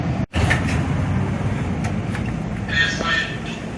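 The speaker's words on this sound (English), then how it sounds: "That concludes my ride of the north-south line of the Portland Streetcar" A Portland Streetcar on the North-South line rolls along with a steady low rumble and hum, a brief dropout near the start and some higher rattling later, with faint voices in the background.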